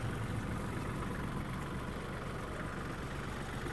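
Steady, continuous engine drone from a Kubota GL-300 mini tractor with cab, recorded close as the slightly warmed-up motor runs evenly for several seconds without speech.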